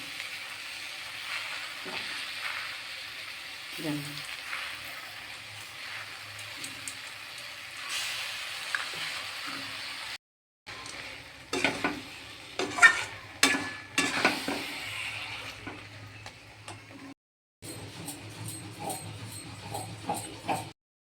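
Jujube pieces simmer with sugarcane jaggery in a pan, giving a soft, crackly sizzle with scattered scraping stir strokes and a few metallic taps, quiet and intermittent with brief gaps.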